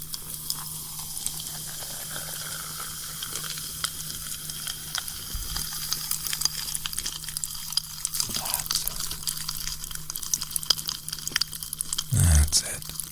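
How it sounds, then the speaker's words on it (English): A liquid concoction is poured gently in a fantasy potion-making roleplay, a soft trickling fizz with faint crackles and clinks, close and quiet, ending in a louder splash-like burst. "Now gently pour in just a little bit of the concoction"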